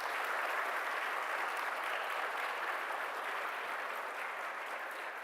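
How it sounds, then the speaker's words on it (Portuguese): Warm applause from the audience closing a lecture, an even, continuous wash of many people clapping for about five seconds, moderately distant and fading slightly toward the end, with no talk over it. "eu gostaria de pedir uma calorosa salva de palmas para a Cristiane Heredia."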